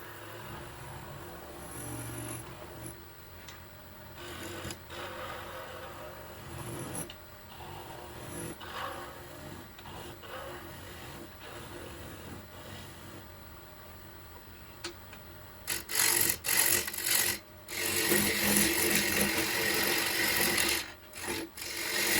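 Wood being sanded on a lathe, with a soft patch in the turned piece, gives a steady rasping rub that grows louder and harsher for the last several seconds, with no voices.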